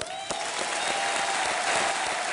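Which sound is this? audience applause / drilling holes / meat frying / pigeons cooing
audience applause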